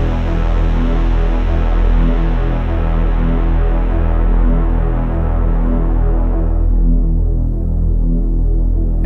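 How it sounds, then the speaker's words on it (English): Teensy-based ISO-Drone synth sounding a thick, throbbing low drone while its filter closes, the bright upper overtones fading away toward the end and leaving a dark hum; steady and loud, no voices. "Here's an example of the filter."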